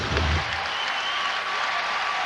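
A basketball arena crowd at a North Carolina at Clemson game applauds steadily, a dense wash of clapping with a brief low rumble at the start and no clear talking.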